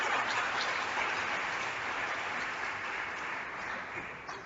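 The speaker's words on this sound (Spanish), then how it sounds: "Denle el aplauso al Señor" Sustained church applause from a worship congregation during a Christmas service, a dense, steady wash of many hands clapping at moderate distance that thins slightly toward the end.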